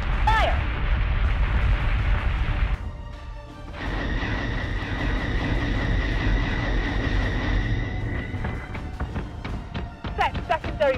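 Ship gun batteries fire in the Battlestar Galactica Deadlock space battle game: dense, sustained booming barrages with a brief lull, then a long stretch of rumbling fire layered with electronic tones and sharp bursts near the end.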